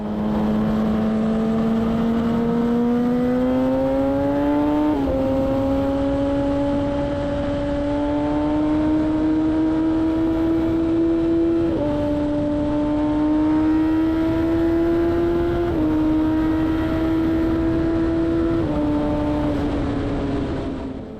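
A Kawasaki ZX10R superbike's engine rises smoothly in pitch through several gears while riding, each shift marked by a short dip before it climbs again. The engine is steady, loud and close, with no talk.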